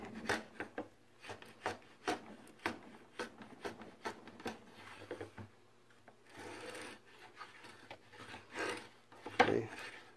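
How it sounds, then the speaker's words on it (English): A hand router plane with a freshly lowered bit routing into wood, giving a string of close, short rasping scrapes at a steady, uneven rhythm with brief pauses in between. "Drop this bit down, tighten it back up. And we'll go route some more."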